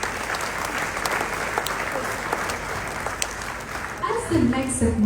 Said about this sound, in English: So ladies and gentlemen, please give him another round of applause